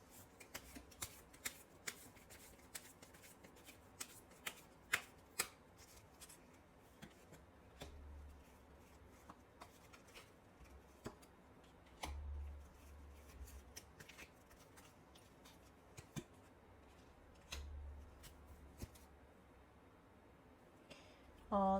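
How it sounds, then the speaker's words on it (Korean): Tarot cards being shuffled before an advice card is drawn, a long run of soft riffling and shuffling with scattered sharp card taps and flicks, close and fairly quiet with no talking. "조언 카드 한번 뽑아보도록 할게요"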